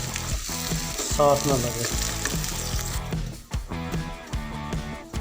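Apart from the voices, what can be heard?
okra frying in oil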